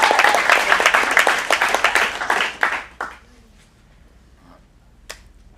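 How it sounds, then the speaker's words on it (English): An audience at an acting studio showcase applauding for the next performer, a dense burst of clapping for about three seconds that quickly thins out to a few scattered claps and then near silence. "Let's get a round of applause for our next performer."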